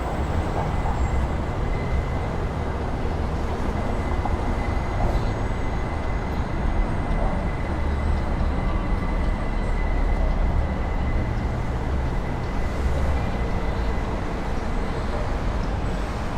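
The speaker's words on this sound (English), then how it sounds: "That train behind me is going to Court Square." Subway train rumbling steadily by on an elevated line toward Court Square in Astoria, New York, after Tropical Storm Ida, a continuous dense roar mixed with street traffic noise, nearby and unbroken.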